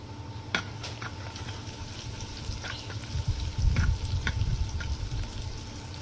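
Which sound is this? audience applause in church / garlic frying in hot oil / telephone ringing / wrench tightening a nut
garlic frying in hot oil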